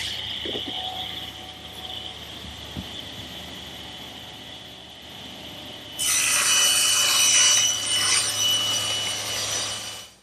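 A table saw rips plywood sides for a bookcase from a half sheet. A motor hum runs under a few light knocks, then the blade bites in with a loud, bright cutting whine for about four seconds before the cut ends and the sound drops away.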